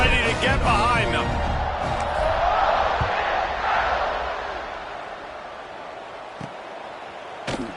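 A stadium crowd in a college football video game, Tennessee playing away, roars at kickoff, a broad wash of cheering that swells early and slowly fades, with a few sharp thuds and a commentator talking over it.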